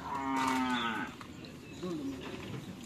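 Cattle at a karapan sapi bull race training ground call out with a drawn-out, fairly close moo, then a second lower, shorter lowing sound after a brief pause.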